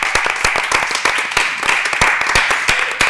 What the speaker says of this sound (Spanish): lo que os pido es que la deis un aplauso